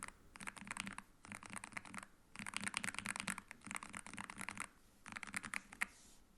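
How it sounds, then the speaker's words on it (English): Rapid clacky keystrokes from a NuPhy Air60 HE mechanical gaming keyboard come in quick bursts with short pauses between, close and fairly quiet, with no talking. "this keyboard sounds really great."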